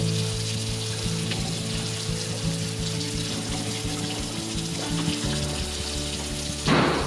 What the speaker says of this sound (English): you're gonna fill that up with hot water